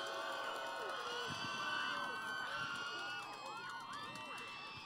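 Crowd of fans at a Thai political campaign rally in a Bangkok community cheering, shouting and clapping continuously, loud and dense throughout, with some voices rising above the din.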